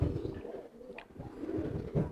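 A pet pigeon in a loft gives soft, low coos, a few rounded calls close by against quiet background noise.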